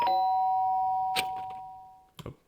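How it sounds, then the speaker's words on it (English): A video game doorbell rings with a clear, sustained chime that slowly decays, followed by a couple of short clunky knocks or thuds. "The sharp sound of the doorbell pierced my sleepy haze and pulled me back to the real world"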